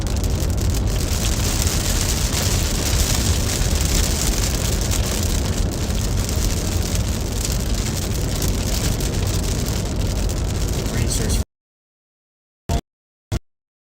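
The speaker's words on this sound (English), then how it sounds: "Rain starts falling down on us." Steady, dense rain drums on a car while driving through pine forest in Northern California, loud and continuous, then cuts off into silence broken by two short clicks.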